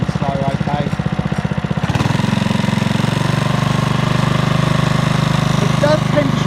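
A Honda HRD535 lawn mower engine chugs steadily, idling low at first, then catching into a smoother, faster running note that holds close and loud while someone talks over it.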